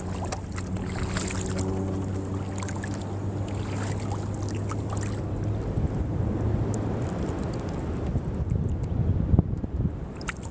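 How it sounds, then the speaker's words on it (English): A small boat is paddled out at sea off a coastline on a fishing trip. Water sloshes and splashes close by in a steady stream, with wind buffeting the microphone and no talking. "I'm paddling up north towards Belito."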